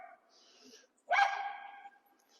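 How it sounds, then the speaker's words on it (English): Small yappy dogs let out a sharp bark followed by a drawn-out yelp, fairly close and moderately loud, with quieter yapping before it. "we've got yappy little dogs"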